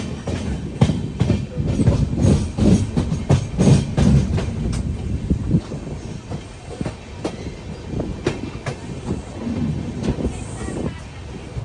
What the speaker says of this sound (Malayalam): 11:10 ട്രെയിൻ ഇതാ കുരുക്ഷേത്ര ജംഗ്ഷൻ സ്റ്റേഷനിലേക്ക് എത്തിക്കൊണ്ടിരിക്കുകയാണ്